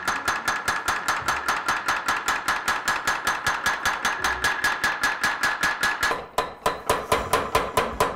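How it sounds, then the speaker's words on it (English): A power hammer flattening the iron side of a Japanese knife in a Sakai, Osaka workshop, running at slow speed: loud, evenly spaced metallic blows pound in a steady rhythm with a brief stutter near the end. "We're going to do part of the flattening process, but we need to do it at a slower speed this time round."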